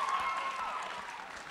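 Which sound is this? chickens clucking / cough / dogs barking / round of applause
round of applause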